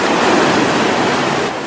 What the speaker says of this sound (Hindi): बंगाल की खाड़ी का समुद्र की लहरों की आवाज़ इतनी ऊंची है